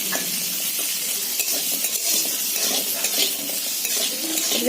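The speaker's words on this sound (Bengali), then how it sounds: "কড়াইতে আমের টক হচ্ছে" Sour mango dish cooking in a wok, with a steady close sizzle and clattering stirring of a utensil against the pan running continuously, no voices.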